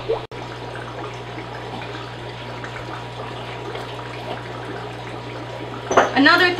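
Hot tap water runs steadily into five-gallon buckets in a fish room, a continuous close splashing hiss with a constant low hum underneath and a short burst of other noise near the end.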